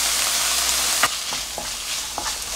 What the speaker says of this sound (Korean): 밥이 이제 따뜻하게 녹록하게 될 때까지 볶아줍니다.